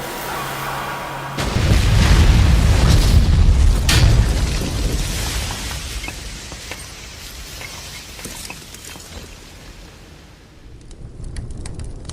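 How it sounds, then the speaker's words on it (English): The violent explosion of the Swissair Flight 306 airliner crashing near Dürrenäsch erupts as a deep, loud boom, followed by a long rumbling roar that slowly fades with scattered crackles. "a violent explosion shattered the silence of Dürrenäsch."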